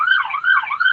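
An emergency siren in Los Angeles wails with a rapid, rising and falling warble, loud and continuous for a second, with no voices.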